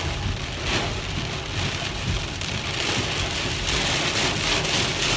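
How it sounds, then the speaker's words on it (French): Heavy rain pours down steadily in Canada, falling as hard as hail, a dense, loud hiss of drops hammering a surface with no break and no voices. "Elle tombe tellement fort qu'on dirait des grelons"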